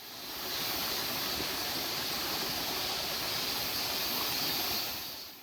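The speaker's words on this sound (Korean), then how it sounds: "바로 옆으로 계곡도 흐릅니다" A mountain stream flows beside a forest trail, giving a steady, full rush of water that stays even throughout and sounds close, with no voices.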